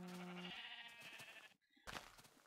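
A sheep bleating in a farming video game, one long wavering bleat up close followed by a shorter bleat after a brief gap, with no talking over it.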